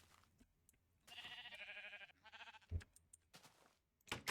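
Sheep bleat in the Minecraft video game, a sustained wavering bleat in the middle followed by shorter bleats, over a low background of game ambience.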